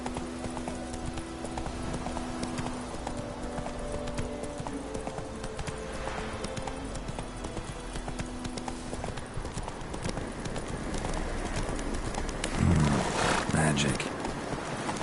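Roach the horse gallops in The Witcher 3, a steady clip-clop of hooves running under game ambience and occasional speech, with a louder burst of movement near the end.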